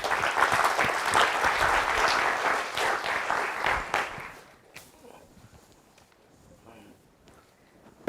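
Lecture-hall audience clapping loudly to welcome a plant evolutionary biology lecturer, dense applause for about four seconds that then fades into quiet shuffling and a few scattered claps.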